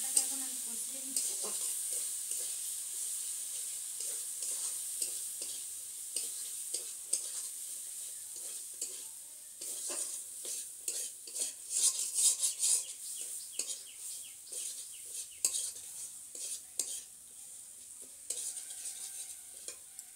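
Spice paste frying in a pan while being stirred steadily, a soft continuous sizzle broken by repeated scraping strokes of the spoon against the pan, fairly quiet and close, with no talking.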